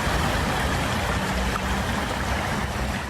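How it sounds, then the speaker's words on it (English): Water rushes steadily through a blocked culvert beneath Lyman Ave in Meriden, Connecticut, a continuous broadband flow with no pauses, loud and close throughout. "There's a culvert that runs underneath this road carrying water. You can hear there's water"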